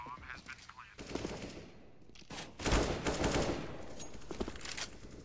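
Submachine gun fire in a Counter-Strike match on the Mirage map: rapid bursts rattle out in clusters, with a loud stretch of sustained automatic fire midway and more scattered shots around it.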